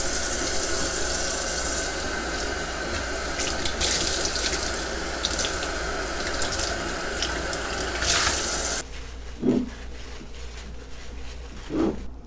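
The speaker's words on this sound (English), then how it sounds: "Step 2, rinse and dry the pie dish." Tap water runs steadily into a kitchen sink while a pie dish is rinsed, a loud continuous rush that cuts off abruptly toward the end, followed by a couple of faint clunks of the dish.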